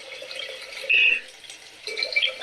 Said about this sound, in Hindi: ये देखिए आप, ये ये पानी चल रहा है